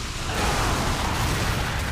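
Explosions in the action game Ninja Gaiden 2 Black, with rocket-firing enemies: a loud, dense, continuous rumbling roar of overlapping blasts, with no gaps.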